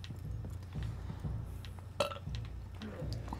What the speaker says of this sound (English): Excuse me, that's a lame-ass burp